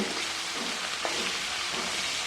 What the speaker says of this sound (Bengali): এবার ওই তেলেই বাকি মাছগুলো আমি খুব ভালো করে ভেজে নিচ্ছি